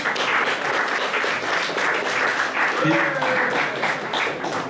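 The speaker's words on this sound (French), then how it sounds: "On peut l'applaudir." Audience applause at a testimonial gathering, a continuous dense wash of clapping with a voice speaking over it partway through.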